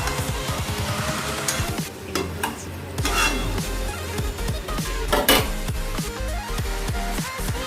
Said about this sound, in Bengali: ভালো করে এটাকে কষাবো।